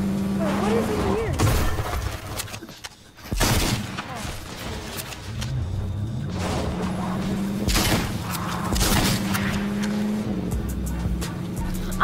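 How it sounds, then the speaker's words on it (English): Fortnite gunfire during its fourth-anniversary event: bursts of shots and booms rising over a steady game soundtrack, with a player talking over them throughout. "Oh, that's shooting."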